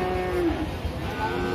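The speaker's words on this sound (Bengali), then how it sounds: "গরু আপনার?" A single cow at a cattle market moos once, a loud close low bellow lasting about a second against faint market background.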